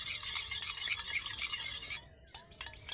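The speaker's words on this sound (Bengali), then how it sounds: "এবার আমি এই সবগুলো উপকরণ একসাথে ভালো করে মিক্সড করে নেব" Homemade saffron soap ingredients with turmeric powder are stirred together in a bowl, giving a close, continuous scraping and rubbing hiss that breaks into a few separate scrapes near the end, no talk.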